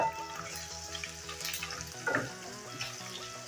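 Onions frying to golden brown in a pan while being stirred, giving a steady close sizzle with occasional scrapes, layered over quiet background music.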